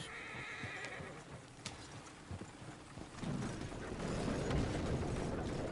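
A horse whinnies now and then inside a PS4 video game, with hoof clip-clop and game ambience building to a louder, busier rumble in the later seconds; no one talks.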